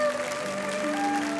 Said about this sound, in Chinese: 听到刘邦这么说，大家都高兴地欢呼。